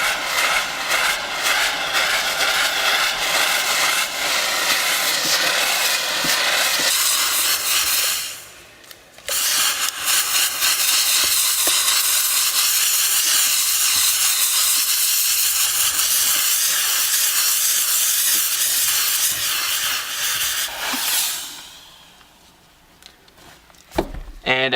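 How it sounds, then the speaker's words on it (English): A fabric car seat steamer hisses loudly at full blast, roughly 70 psi of steam, in long continuous bursts that cut out briefly twice before trailing off near the end. "I have this at like full blast, by the way, so I think this is like 70 psi of steam."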